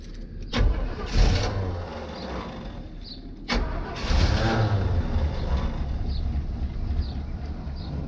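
A carbureted car engine being started, with two sharp cranking attempts that each catch and rev up, then settle into a rough, loud idle nearby.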